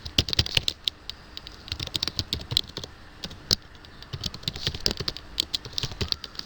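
A company name is typed on a computer keyboard for an Excel stock-management sheet, with rapid, irregular clacking keystrokes close up and steady throughout, without voices.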